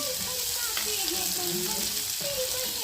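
Fenugreek leaves sautéing in a pan, giving a steady close sizzle with soft stirring scrapes under it, continuous and even throughout.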